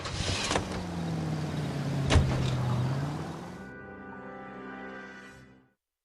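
A car driven in the video game L.A. Noire, with a steady engine drone and a soft mechanical click partway through, then a fade into quieter hum until it cuts out.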